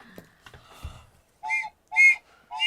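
Three sharp referee whistle blasts end a round of kickball at a comic convention, loud and close, following some faint scattered noise.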